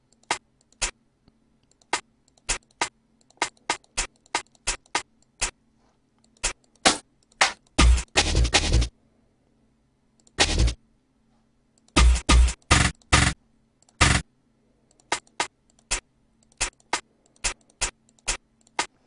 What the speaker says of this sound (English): I like to start with my hi-hats just to do my little rolls.